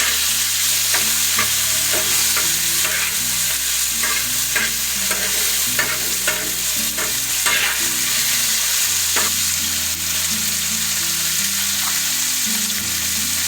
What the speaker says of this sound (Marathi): यामध्ये टमाटर टाकून घेत आहे छान असा टमाटर मॅश करून घ्यायचा आहे